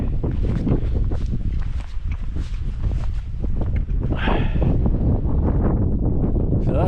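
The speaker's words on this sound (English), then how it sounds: "Because it's the wind, it's cold, you know." Cold wind buffeting the microphone on a steep Lake District fellside, a dense, blustery roar that stays loud and unbroken, with gusts swelling near the end.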